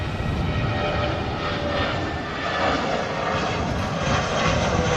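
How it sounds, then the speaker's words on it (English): A British Airways Airbus A319 jet passing on its way to London Heathrow, a steady, loud, broadband engine roar that holds even throughout, with no talk over it. "British Airways A319 on the way back to London Heathrow."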